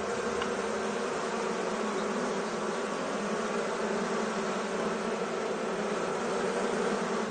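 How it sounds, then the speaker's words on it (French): A dense swarm of Armenian yellow bees buzzes continuously, a steady, full hum with no pauses, close and even throughout, with no voices. "ils ont réussi à faire revivre l'abeille jaune arménienne"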